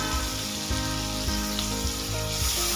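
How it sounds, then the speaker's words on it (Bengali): Whole cumin and chopped onion sizzle steadily in hot oil left over from frying potatoes, a dense close hiss with faint spoon scrapes and no voices. "পেঁয়াজটা লাল করে ভেজে নেব"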